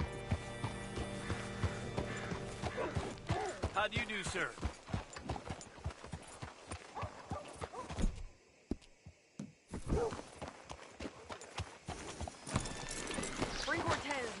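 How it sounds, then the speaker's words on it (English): Horse hooves clip-clop in the video game Red Dead Redemption 2 in a steady walking rhythm. Game music plays and characters talk over them, and the sound drops away briefly midway. "Hitch your horse up here"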